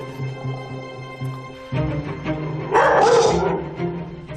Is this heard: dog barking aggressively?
yes